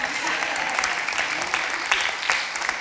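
A congregation applauds during a church sermon, dense steady clapping from many hands filling the room, with occasional louder claps standing out.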